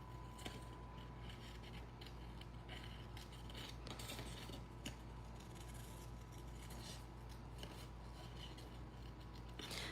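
Scissors fussy-cut around small printed scenes on craft paper for a handmade card, giving a quiet, steady run of soft snips and rasping paper rubs close by, with no talking.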